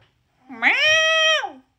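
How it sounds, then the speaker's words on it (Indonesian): A single drawn-out cat meow, loud and close, rising then holding steady before trailing off, heard alone. "Meow."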